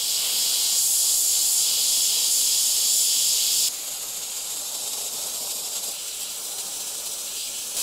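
An airbrush spraying paint, held close to the edge of a Halloween skeleton painting, gives a steady, loud high hiss that drops slightly in level partway through and keeps going alone with no talk.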